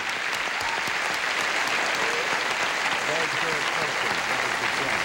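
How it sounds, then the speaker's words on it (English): Steady, dense applause from a large game show studio audience on Match Game '78, sustained at an even volume for several seconds. "Would you applaud our two players here, Barbara Hagan and Joanne Brophy?"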